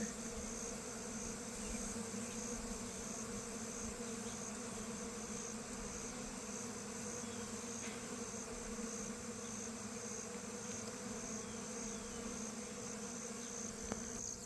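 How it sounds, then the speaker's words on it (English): A dense, steady drone of many honeybees buzzing together inside a hive, low and continuous, fairly quiet with no talking. "So, there's a lot of bees in here. Listen to them."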